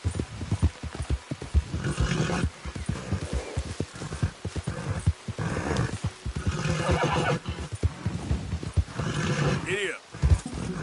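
Horse in the Red Dead Redemption 2 video game whinnies over steady clip-clopping hooves, the hoofbeats continuous and close with a voice talking at times.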